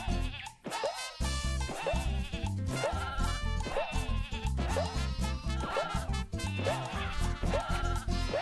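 Sheep bleating in the remastered video game Croc, set over busy, continuous game music: repeated wavering bleats that recur throughout, loud and close.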